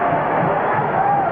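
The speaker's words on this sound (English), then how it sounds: "Now the crowd awaits the arrival of the Tigers." Large football stadium crowd at Clemson's Death Valley before a 1987 Clemson vs Georgia college game, a steady dense roar of murmuring voices and cheering spread evenly, distant and continuous without a break.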